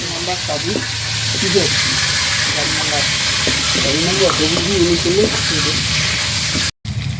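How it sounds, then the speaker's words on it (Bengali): Potatoes frying in a pan while a fish dish is prepared, with a steady sizzle throughout and someone talking over it close by. "এবার আলুটা ভেজে রান্নাটা আমি করবো"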